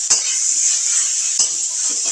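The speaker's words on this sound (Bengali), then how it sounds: "দিয়ে আবার আমি ভালো করে এই পেঁয়াজ লঙ্কাগুলো ভালো করে মিশিয়ে নেব।" Boiled potato being stirred into fried onion and chilli in a pan, giving soft repeated scraping and clinking of a utensil against the pan under a steady bright sizzle.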